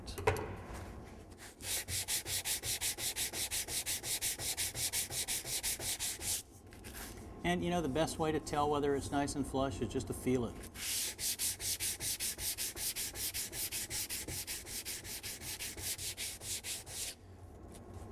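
Steady back-and-forth hand sanding on wood veneer with a wooden sanding block, with rapid rhythmic rasping strokes that pause briefly while a person speaks, then resume.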